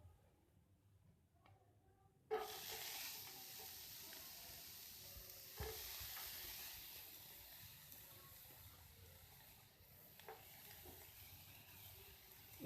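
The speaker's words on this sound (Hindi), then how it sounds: "इसे हल्का सा फ्राई करेंगे" Radish pieces fry lightly in about a spoonful of oil in a pan, a soft, steady sizzle that starts abruptly as they go in, with occasional stirring clicks.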